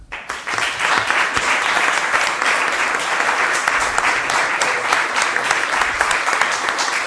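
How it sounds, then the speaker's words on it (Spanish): A university lecture-hall audience at an event on migration, refuge and human rights breaks into loud, sustained applause, dense and steady for the whole stretch without any talk. "fuerte aplauso."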